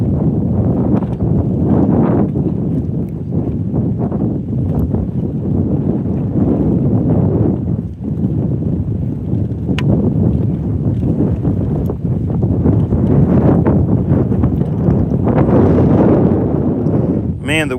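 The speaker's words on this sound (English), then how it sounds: "Man, the wind is brutal." Strong gusting wind buffets the microphone out on the water during bass fishing, a loud continuous low roar that rises and falls, with someone talking now and then underneath.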